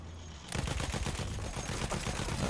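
Gunfire in Battlefield 1 bursts in after a quiet half-second: rapid, rhythmic automatic shots rattling steadily and loudly, close by, continuing to the end.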